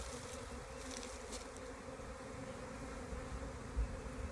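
Bees buzz in a steady, continuous drone around a swarm trap with collapsed comb during a messy comb transfer, a close hum filling the air with no talking.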